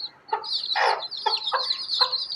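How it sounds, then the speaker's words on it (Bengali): Young chicks at home make repeated soft clucking peeps, several short calls in an uneven rhythm with a thin high chirping running throughout, close by and fairly clear. "এই দেখো দেখো আমাদের মুরগির বাচ্চা"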